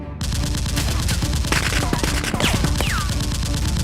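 Toy foam-dart blasters firing in a busy play fight, a dense jumble of rapid pops and mechanical clatter running almost the entire time, loud and close with some whirring in the background.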